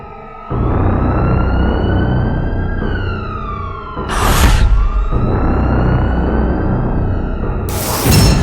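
A loud wailing ambulance siren rising and falling over engine rumble, close by, with brief bursts of harsh noise.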